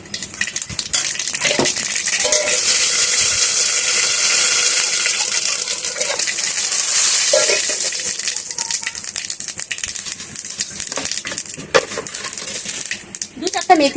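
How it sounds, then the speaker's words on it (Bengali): Mustard seeds hit hot oil alongside radhuni for a Bengali shukto, spluttering and crackling in dense rattling bursts that swell loudly and then thin out into scattered pops. "সর্ষাটা কিন্তু এখন ছিটকাবে।"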